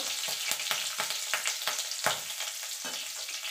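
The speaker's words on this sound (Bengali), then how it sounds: "এবার ফোড়নটা একটুখানি ভাজা ভাজা করে নেব।" Black cumin seeds and slit green chillies fry in hot oil as a tempering, giving a steady close sizzle with sharp pops and crackles scattered throughout.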